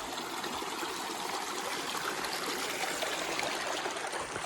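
A creek flowing close to a waterfall on a forest trail, giving a continuous, even wash of rushing and trickling water that stays steady throughout.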